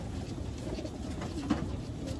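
Low, soft cooing of pigeons close by at the start of road training, a brief murmuring rumble with no talking.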